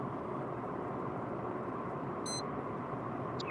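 A lightning detector in a moving storm-chasing vehicle gives one short, high beep over a steady, quiet road rumble, and a fainter chirp follows near the end.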